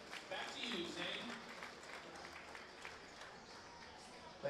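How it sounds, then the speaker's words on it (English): Crowd at a baseball game between the Florence Y'alls and Evansville Otters applauding a winner, a broad wash of clapping and cheering that is loudest at the start, then settles into a steady murmur with an announcer talking over it. "Let's give a round of applause to our winner."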